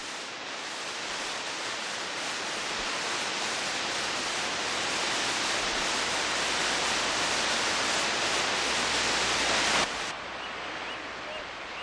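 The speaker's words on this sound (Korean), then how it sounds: "용서 폭포다." Yongseo waterfall, a twin waterfall with two facing streams, pours in a steady, loud, broadband roar that stays constant throughout, ending with a slight drop in the upper hiss near the end.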